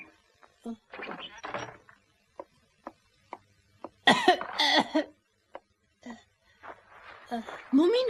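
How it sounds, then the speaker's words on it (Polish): A cartoon Moomin character with a cold coughs repeatedly in harsh, raspy bursts and clears his throat, with short thuds between the coughs and brief voices talking. "jak ty paskudnie kaszlesz"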